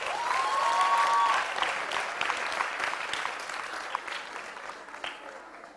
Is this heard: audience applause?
yes